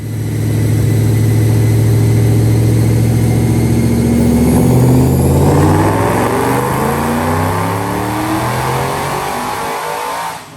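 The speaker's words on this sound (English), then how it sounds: "Check out this dyno pull." A 2007 Mustang GT500 with a Whipple Gen 5 3.0L supercharger and cams roars loud and close on a dyno, its pitch climbing steadily through the pull before the revs fall away and the engine winds down.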